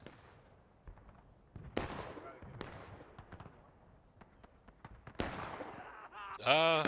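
Distant musket volleys in the War of Rights video game: scattered sharp cracks and pops at irregular intervals, some sounding farther off than others, with a few louder close shots near the end.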